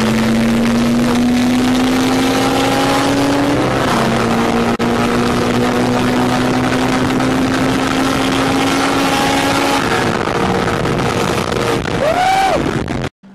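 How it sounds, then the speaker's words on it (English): Honda Civic and Ford Mustang engines during a street race, a steady loud drone with rising harmonic pitch through several gear changes, ending in a sharp swooping rev near the end, recorded through a low-quality device. "It wasn't that long of a race, but the Civic held its ground."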